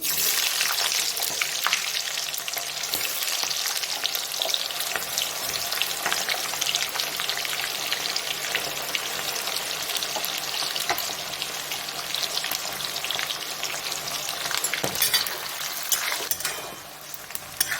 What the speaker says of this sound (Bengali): গোটা গরম মশলাটা তেলে দিয়ে দিলাম চিনিটা লাল হয়ে গেছে পেঁয়াজগুলো দিয়ে দিচ্ছি